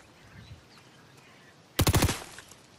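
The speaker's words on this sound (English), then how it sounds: "Somebody shooting at you?" A short, loud burst of rapid automatic gunfire rings out, about five shots in quick succession, during a duo battle royale video game match. The burst follows a quiet stretch with faint background sounds.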